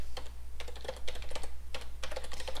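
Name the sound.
typing on a computer keyboard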